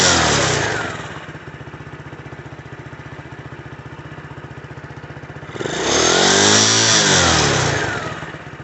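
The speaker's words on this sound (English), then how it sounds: "That's the doggone Kickstarter leaning up against the exhaust guard, making that vibration" A 2021 Icebear Champion 125cc motorcycle engine idles with a rapid rattling vibration from the kickstarter resting against the exhaust guard, then revs up loudly for a couple of seconds before settling back to idle.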